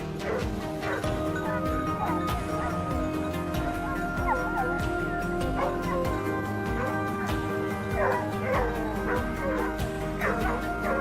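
Hunting dogs bark and yip repeatedly during a wild boar hunt, with several dogs nearby and overlapping, some whimpering cries mixed in, and faint bird calls in the background.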